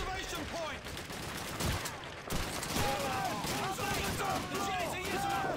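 Continuous gunfire from the Call of Duty 2 Retaking Toujane mission comes as dense, overlapping bursts of shots, with a person talking over the shooting throughout.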